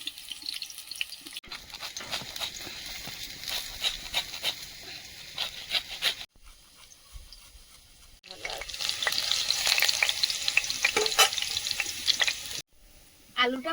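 Potatoes frying in a pan over a wood or clay stove outdoors, a steady crackling sizzle with occasional stirring scrapes, broken by two short pauses and loudest near the end.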